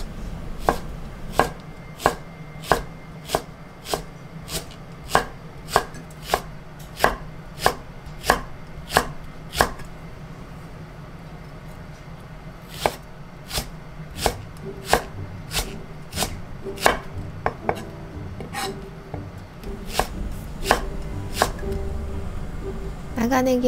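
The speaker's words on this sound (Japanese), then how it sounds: "長ネギは斜め薄切りにしていきます" A knife cuts a long green onion diagonally into thin slices on a cutting board, giving a steady series of crisp, evenly spaced chops close by. A voice talks quietly in places.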